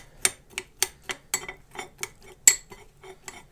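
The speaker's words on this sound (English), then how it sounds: "So now I'm just going to stir that up" A metal spoon stirs food in a pan, knocking against the sides in about a dozen sharp, evenly spaced clinks, close and clear with nothing else around them.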